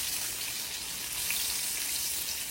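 Eggplant frying in hilsa fish oil gives a close, even hiss of sizzling oil that stays steady throughout with no talking.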